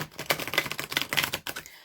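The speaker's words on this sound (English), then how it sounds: "I do that by dealing the cards into 4 piles, then I bring them back together and I give them a good shuffle." Tarot cards are dealt and shuffled in quick, crisp bursts of flicking and riffling, close and moderately loud, with a brief pause near the end and no talking.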